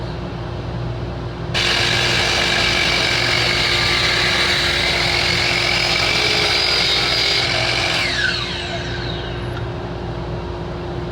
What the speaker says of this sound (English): I'm going to cut this to length